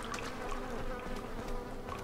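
Flies buzz steadily in a grimy storeroom in the video game Resident Evil 4, a continuous close insect drone with no talk.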